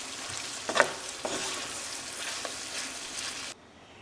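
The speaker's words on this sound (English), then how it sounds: "you can just mix it all together and make sure everything is" Pasta and chicken in sauce get stirred in a skillet, with a steady sizzle and a few sharp scraping clicks of a utensil against the pan early on before the sound cuts off near the end.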